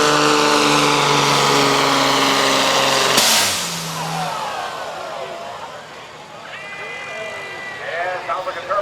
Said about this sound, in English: Sounds like a turbo hose that blew.